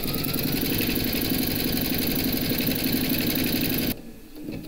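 An embroidery machine stitches a scarecrow appliqué in a hoop with a dense, rapid mechanical whir and steady needle chatter, close and loud, before cutting off abruptly into quieter rustling.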